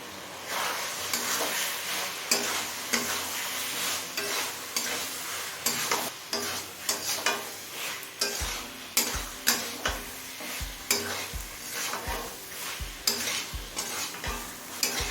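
A spatula stirs fried potatoes into sizzling chicken and spices in a pan, with steady frying hiss and rhythmic scraping knocks against the metal that grow sharper and more regular in the second half.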